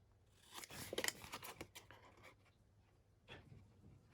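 Scissors snip through paper while trimming a small flap on a large 12-inch junk journal folio: a cluster of crisp, close cuts near the start, then a softer single snip a few seconds later.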